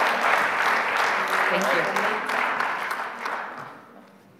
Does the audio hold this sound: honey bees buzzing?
no